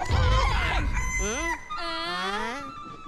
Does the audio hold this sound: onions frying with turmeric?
no